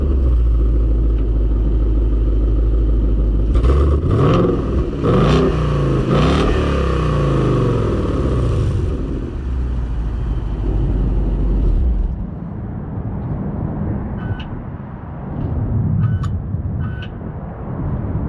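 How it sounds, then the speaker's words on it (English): A Ford Roush Mustang exhaust heard from outside, loud and close: a deep rumble with several throttle blips and revs early on, then settling to a lower idle with occasional faint crackles and pops. "you get those little crackle and pops from time to time when the exhaust is all, you know, warmed up"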